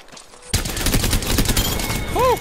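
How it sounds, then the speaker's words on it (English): Bursts of rapid gunfire from an Apex Legends match, loud and continuous after a quiet start, with a brief rising electronic tone near the end. "I am taking fire."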